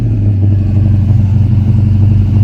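A 1971 Dodge Charger's Hemi engine runs with a loud, steady, close-up rumble and no pauses.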